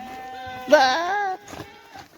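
Goats and sheep kept together on a farm bleat loudly up close. One long, wavering bleat is followed by a couple of shorter, weaker calls.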